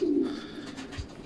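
A racing pigeon coos once in a loft, a soft, low, throaty call that fades quickly, with no one speaking.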